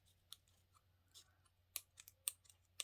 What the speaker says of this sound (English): I don't want to use my good fabric scissors on this, but I should really.